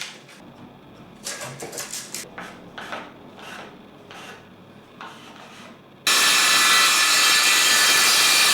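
A wall panel is cut to size with a saw in a series of short, rhythmic strokes, then a loud, steady, broadband power-tool roar takes over. The sound is close, with no talking.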